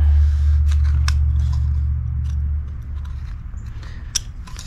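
A carving knife bites into wood while shaping a carved face, making a low scraping rumble followed by several sharp, close clicks and snicks of the blade, scattered and irregular.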